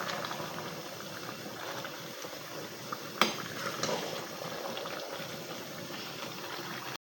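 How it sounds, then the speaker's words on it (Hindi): Aloo palak, potato and spinach with water, simmering in a covered pot gives a steady bubbling and hissing, with a single sharp clink of the pot midway and no talk. "आलू पालक अभी बन रही है और इसमें अभी पानी है, इसको अभी पकने देंगे।"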